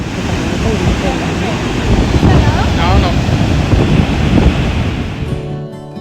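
Rough ocean surf rolls and crashes on Besant Nagar beach in rainy weather, a loud continuous roar mixed with wind buffeting the microphone and faint voices in the background.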